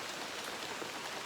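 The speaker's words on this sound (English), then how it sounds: "then started to rain" Rain falls steadily in a wet Costa Rican cloud forest, a dense, even patter of drops on foliage and surfaces, soft and continuous with no voices.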